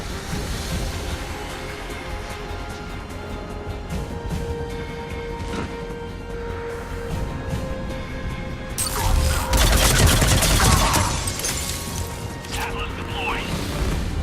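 Sustained gunfire in the video game Mass Effect 3 during a firefight, with heavier bursts and crashing impacts swelling midway over a steady mechanical background.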